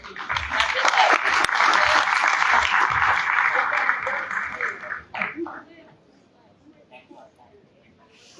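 Loud, dense applause from an orientation-day audience for a student speaker, holding strong for about five seconds before dying away into quiet room sound with a few stray claps and murmurs.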